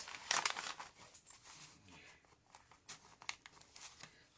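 A slimline paper Christmas card slides into a larger paper envelope with close crinkling and rustling, a sharp burst at the start followed by softer scuffs and brushes.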